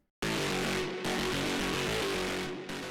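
A gnarly, heavily distorted Cyberpunk-preset synth from Vital, crushed further with OTT multiband compression, plays loud, dense chords that restart with hard chopped re-attacks around each second, with no voice over it.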